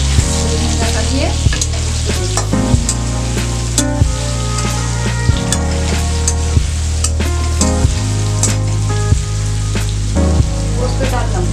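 Poppy seeds fry and sizzle in a pan for a potato curry, with a steady bright crackle cut by repeated scraping stirs of a utensil against the pan at a roughly regular pace, loud and close, with no talk.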